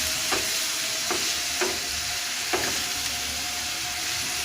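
Carrots fry in a pan with whole cardamom and cinnamon, a constant sizzle broken by a few sharp scrapes of stirring.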